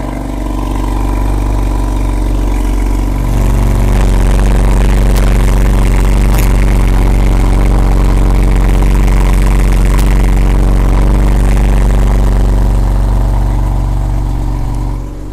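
A BMW M4 F82 fitted with a full Akrapovič exhaust system idles loud and close with a deep steady burble, then the revs climb and hold in a sustained raspy drone before easing off.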